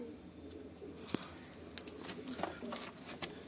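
Pigeons in a newly opened loft coo softly and intermittently, with faint flutters and small calls over steady background noise.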